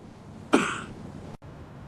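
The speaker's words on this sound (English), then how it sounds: "That cough is not new." A single sharp, raspy cough up close, following a quiet room tone, then an abrupt cut to silence before the background resumes.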